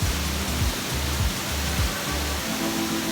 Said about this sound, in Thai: ด้านนี้เป็นน้ำตกนะครับ